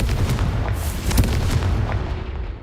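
A fiery Confringo spell blast in Hogwarts Legacy goes off as a loud, booming explosion with a sharp crack. It is followed by rumbling debris and a fading tail over a few seconds.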